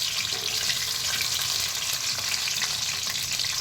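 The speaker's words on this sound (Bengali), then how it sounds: "আমি টমেটোটা তেলের মধ্যে দিয়ে দিলাম।" Chopped tomato frying in hot oil with whole spices like cardamom, cloves and cinnamon, a loud continuous sizzle and crackle filling the whole moment without talk.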